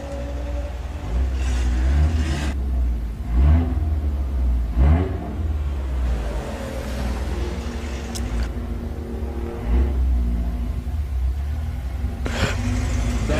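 Drag racing cars including an Audi TT at Santa Pod Raceway, a distant rumbling engine drone with a few rising revs and passing swells, steady and moderately loud across the track.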